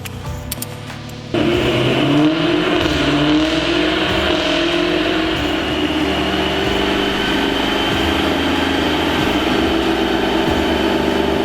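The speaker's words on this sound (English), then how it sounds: "ready for the workshop team to upload it to the vehicle and run it on the dyno" A remapped supercharged Jaguar F-TYPE revs hard on a dyno after a short quieter start, holding a loud, steady, sustained high-rpm roar from close by for the rest of the run.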